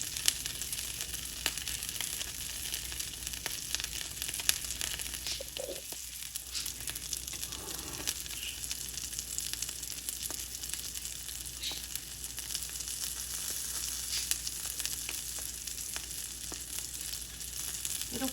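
Food frying in a pan, a steady crackling sizzle that runs on without a break and stays close and even, with a brief stir or shift partway through.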